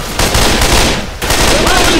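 Gunfire in Left 4 Dead: a loud, dense burst of rapid automatic shots, briefly broken and then resumed, close and overwhelming for a couple of seconds.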